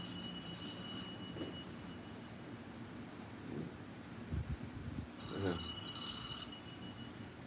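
A telephone rings in two bursts of bright electronic tone, one at the start and a louder one near the end, over a low background rumble.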